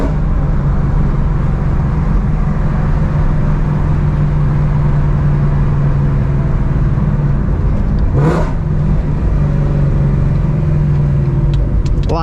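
A Ford Mustang's engine drones steadily from inside the cabin at night, a low constant hum with one brief whoosh partway through.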